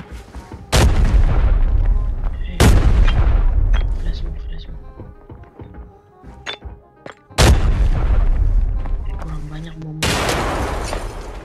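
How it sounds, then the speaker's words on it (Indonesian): Several heavy bomb blasts from a PUBG-style shooter game, each a sudden loud broadband boom with a rumbling tail, four big hits spread across the stretch, with quieter game sounds and a voice speaking in between. "Banyak banget bom dia."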